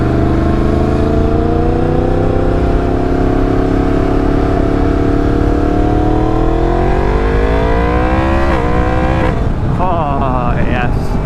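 A Yamaha R7 motorcycle engine drones loud and close as the rider downshifts to second gear, the pitch climbing steadily and then jumping into sharp, warbling revs near the end.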